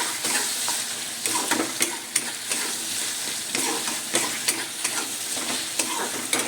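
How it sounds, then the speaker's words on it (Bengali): Chicken, potato and capsicum sizzle steadily in a pan while a spoon stirs them, with scraping strokes recurring over the continuous frying hiss. "নাড়া হয়ে গেল"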